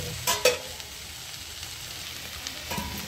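Okra (bhindi) being stirred as it fries uncovered in a pan with ground chilli: a steady close sizzle with a couple of sharp scraping stirs near the start.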